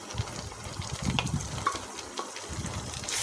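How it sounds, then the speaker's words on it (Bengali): Onion with ginger-garlic paste frying in a pan for chicken curry, a steady low sizzle with soft scraping and stirring sounds throughout, fairly quiet and close. "এটা ভালো করে ভেজে নেবো মশলাটা ভালো করে কষিয়ে নিতে হবে"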